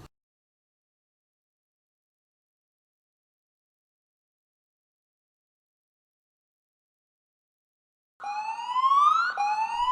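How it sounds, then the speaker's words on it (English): A tsunami warning siren in New Zealand rises and wails in the last two seconds after a long stretch of near silence, its tone sweeping upward in a loud, tonal howl. "a peaceful Friday morning was interrupted by tsunami sirens"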